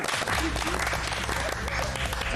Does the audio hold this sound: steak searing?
no